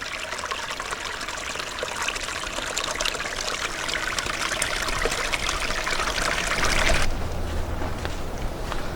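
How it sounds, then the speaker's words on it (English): Continuous gentle splashing and trickling of a small waterfall along a forest trail on a quiet winter day, close by and steady, with no voices. "just little waterfalls like this make a nice little noise on a quiet winter day"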